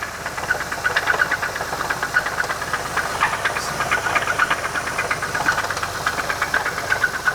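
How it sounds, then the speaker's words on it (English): An engine with a bent connecting rod runs with a loud, rapid metallic knocking, a continuous hammering clatter over a rough mechanical drone, close and steady throughout with no voices. "I think it bent a connecting rod because this thing sounded really bad. I got it to run, but it sounded really,"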